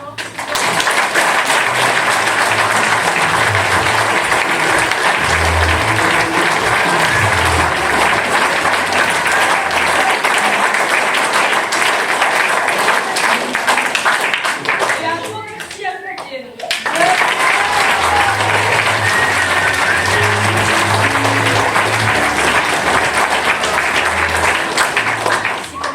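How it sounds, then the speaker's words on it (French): A hall audience applauds a group of child actors after their theatre workshop show, a loud, dense and sustained wash of clapping that breaks off briefly near the middle before surging back just as strong. "je vous propose de les applaudir encore"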